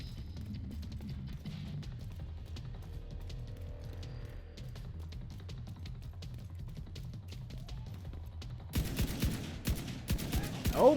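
Rifle fire in The Division 2 comes as rapid, regular bursts of shots from a hard-recoiling gun, fairly faint and steady at first, then suddenly louder and harsher near the end, with no talking.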